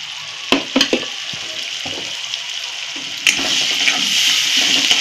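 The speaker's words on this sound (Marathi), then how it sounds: "भाजून घ्यायचं चांगलं." Spices and chili powder fry and roast in a hot pan for a pea and soya chunk masala, giving a continuous close sizzle with a few sharp utensil knocks near the start and a louder surge of hissing partway through.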